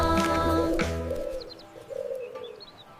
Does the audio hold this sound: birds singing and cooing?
yes